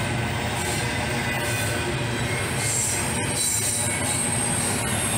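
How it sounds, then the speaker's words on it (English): Close-passing intermodal freight train carrying Evergreen containers, continuous heavy rumble of wagons with high, sustained wheel squeal riding over it throughout. "this is not your typical intermodal train"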